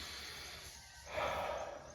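A single sharp snort clears the nose after a neti pot saline rinse, a short close burst of breath following a quieter moment.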